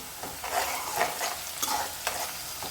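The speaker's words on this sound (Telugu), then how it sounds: "ఒక టీ స్పూన్ పసుపు అయితే వేసుకుందాం దీన్ని కూడా మంచిగా కలుపుకోవాలి" Turmeric and curry leaves are stirred into a sizzling tomato curry, steady frying crackle under repeated scraping strokes of a spoon against the pan, close up and with no voices.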